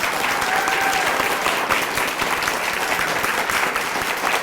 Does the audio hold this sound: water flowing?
no